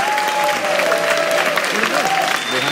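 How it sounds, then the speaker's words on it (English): An audience at a film-festival Q&A with Arnold Schwarzenegger breaks into loud, continuous applause, with dense clapping and some crowd cheering throughout. "A huge round of applause"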